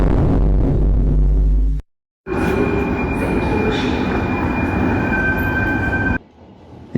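A Bucharest metro train rumbles close by with a loud, dense roar and drawn-out wheel squeals. It cuts to a brief silence, then resumes with steady clattering noise and fades to a quieter hum at the end.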